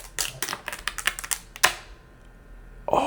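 Protective film peeled off a Samsung Galaxy Z TriFold box, heard as a quick series of crisp ripping and crackling bursts, close and fairly loud, ending in a sharper tear before a short quiet pause.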